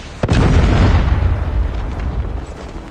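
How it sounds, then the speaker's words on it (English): A Predator missile strike in the Call of Duty Mobile shooter game, one sudden loud explosion with a heavy low boom that rumbles and slowly fades. "Friendly Predator missile inbound."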